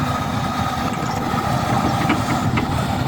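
An old Komatsu PC120-3 excavator works with its engine and hydraulic pump running: a steady mechanical drone with faint ticking and clattering over it, moderately loud and continuous.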